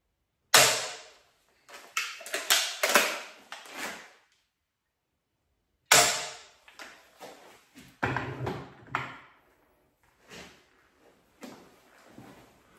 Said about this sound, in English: Let us shoot a field tip and then a hunting broadhead, a regular hunting broadhead with the 30-pound limb set, just for comparison.